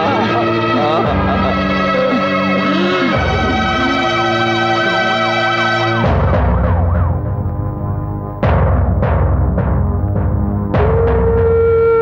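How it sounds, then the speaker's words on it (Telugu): An ambulance siren wails loudly and close in a Telugu film scene, cycling through rising and falling sweeps, then switching to a faster, sharper yelp pattern. "సుందరయ్య సుందరయ్య అంబులెన్స్ వచ్చిందిరా అంబులెన్స్ వచ్చింది"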